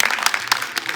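Brief burst of audience clapping at a developer conference talk, a few distinct claps standing out within a second of scattered applause.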